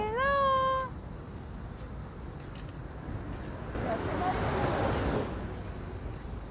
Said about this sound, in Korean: 엄마 고양이네.